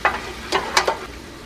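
Half a stick of butter sizzles in a pot, with a few brief, soft crackling bursts and stirring scrapes over a quiet background.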